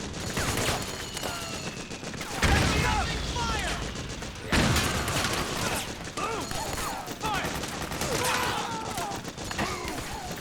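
Mortar fire and battlefield gunfire rage in Metal Gear Solid 4, with heavy booms around the midpoint over a dense, continuous clatter of shots, while a voice speaks at times.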